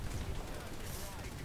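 Gunfire from tank combat in the game War Thunder, a dense, steady rumble of shots and blasts under a brief stretch of talk.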